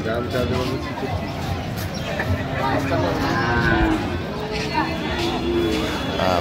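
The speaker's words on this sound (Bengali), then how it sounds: "আমরা দেখছিলাম এখানে চমৎকার একটি গরু দেখছেন।" Sahiwal cattle at a farm low repeatedly in drawn-out, tonal moos over a busy outdoor background where people are talking.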